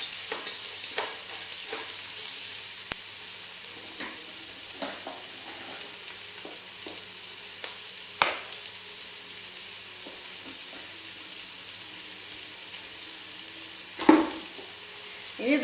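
Ingredients sauté with salt in a pan for chicken pasta: a long, even sizzle with repeated spatula scrapes and taps throughout, and a louder stir near the end.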